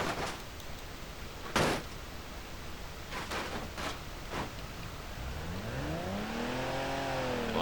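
Engine of a wrecked car in BeamNG.drive idling and revving, its pitch sweeping up and down in rising arcs after a few brief knocks and clunks, steady and fairly close.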